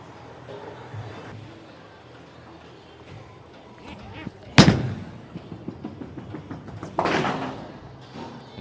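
A bowling ball rolls down a house-shot lane and strikes the pins: a sharp crack followed a few seconds later by a broader clattering crash, with people talking in the alley.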